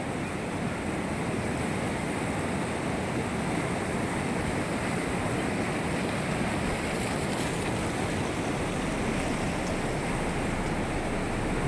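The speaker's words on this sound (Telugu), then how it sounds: "అక్కడ వాటర్ అనేది స్పీడ్గా వస్తున్నాయి" A constant loud rush of fast-flowing floodwater, broadband and unbroken, like a torrent pouring past nearby, with no voices, near Bhima Lingam.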